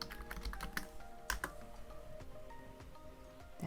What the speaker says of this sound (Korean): 명함이라고 입력합니다